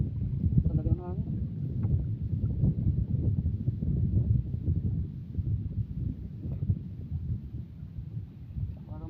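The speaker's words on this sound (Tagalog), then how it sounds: "Talagang hangin." Strong wind buffeting the microphone outdoors by the water where fishing nets are hauled, a continuous low rumbling gust noise throughout with faint voices underneath.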